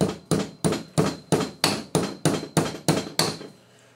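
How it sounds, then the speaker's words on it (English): About ten sharp, evenly spaced hammer blows drive a roll pin into the bolt of a PPS43 submachine gun, ringing with a metallic tone, close and loud, before a brief decaying tail. "drive that roll pin home until it hits the upper side of the bolt there"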